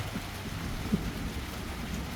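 Steady rain falls around a garden in a continuous hiss, heard from shelter beneath a balcony, with a faint low rumble that may be distant thunder; no voices.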